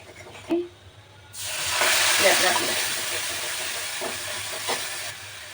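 Homemade red chili powder, black masala and turmeric sautéing in a hot pan: after a brief quiet moment, a loud steady sizzle bursts in and slowly eases, with a few soft stirring clinks near the end.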